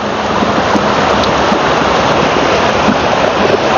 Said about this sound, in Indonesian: Walaupun hujan-hujan bakalan kita terjang terus